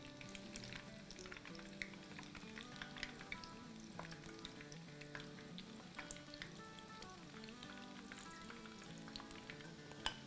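Dahi phulki batter frying in hot oil like pakoras, a steady bubbling sizzle with occasional crackles and stirring, close and continuous with no voices.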